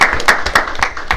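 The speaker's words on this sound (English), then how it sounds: "So let's give them a round of applause." A school board meeting audience gives a brief round of applause for tennis players, sharp overlapping hand claps close by with no talking.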